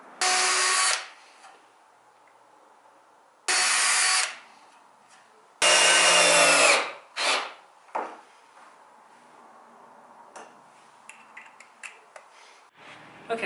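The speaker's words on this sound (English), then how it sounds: "Okay, so I just screwed that on." A power drill drives screws into a wooden skate box in three loud, close bursts of whirring, separated by pauses and followed by scattered clicks and handling noises.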